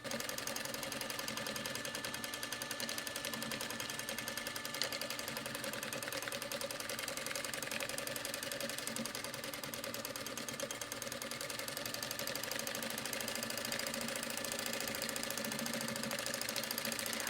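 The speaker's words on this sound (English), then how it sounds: "it'll catch a material in a certain way, and you'll start sewing in a different direction" A sewing machine stitching fabric gives a steady, even mechanical whir that runs unbroken throughout at moderate, fairly quiet volume. No voices are heard.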